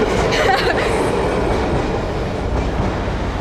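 A Milan city tram rolls past close by, a loud continuous rumble with rattling clatter from the wheels and carriage throughout.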